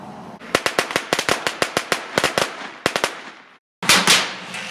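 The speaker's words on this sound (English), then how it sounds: "Since we found fireworks, we might as well light some." Firecrackers set off outdoors crackle in a rapid, irregular string of about twenty loud, sharp pops, break off in a brief silence, then resume with a denser burst.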